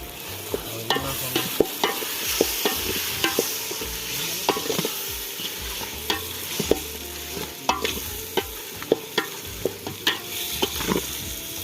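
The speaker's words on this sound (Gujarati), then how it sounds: "હવે નાખી દઈશું આ દેશી ટમેટા આપણે ઝીણા ઝીણા" Finely chopped desi tomatoes sizzle steadily in a pan for dal while a spoon scrapes and stirs with frequent sharp clicks against the metal, close and continuous, with no voices.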